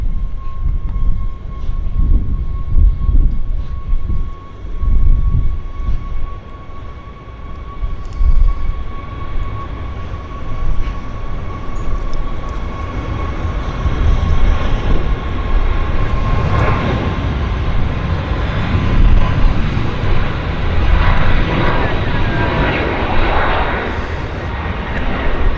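WestJet airliner on its takeoff roll at Vancouver Airport, a steady loud jet engine roar with a thin whine, building and swelling over the clip, heard alone.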